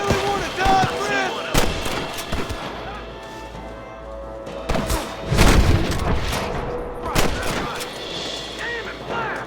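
Repeated gunfire in the Western video game Red Dead Redemption, sharp loud shots and booming blasts scattered irregularly over a busy backdrop, with voices shouting between them.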